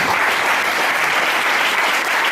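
A church congregation applauding during a Sunday service: steady, loud, dense clapping from a large crowd, close and continuous with no gaps.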